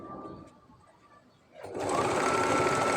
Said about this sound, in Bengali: একদম স্টার্টিং পয়েন্ট থেকে এন্ড পর্যন্ত সেলাই করতে হবে